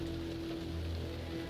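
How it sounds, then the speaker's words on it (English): Soft, steady rain falls in the video game Primordia, a quiet, even patter on surfaces with a faint low hum beneath, no voices. "The rain is probably the trickiest and favorite part that I coded in Primordia"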